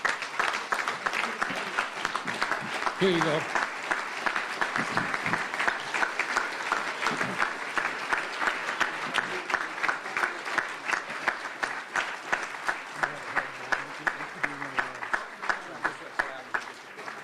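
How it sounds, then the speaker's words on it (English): Audience applause fills a hall of fame ceremony for university athletics, steady dense clapping running throughout, with someone speaking briefly over it. "I want you to give a round of applause for him because he's one heck of a man"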